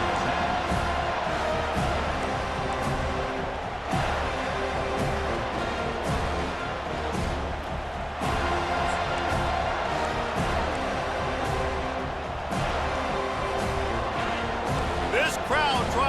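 Virtual stadium crowd in the football video game EA Sports College Football 25, a continuous loud roar of cheering fans under a commentator's speech.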